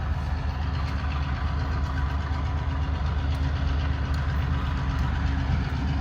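A Hamilton Northwestern Railroad freight train runs southbound with center beam lumber cars loaded with railroad ties, giving a constant deep engine drone and rumble at steady volume, with no voices.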